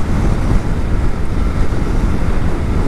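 Strong wind at Kuakata sea beach in Bangladesh buffets the microphone of a moving motorbike, a loud, constant low roar with no breaks.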